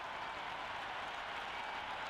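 Steady roar of a cricket stadium crowd in Cricket 26 at a Zimbabwe vs West Indies World Cup match, a dense continuous wash of cheering and noise with no breaks, heard alone.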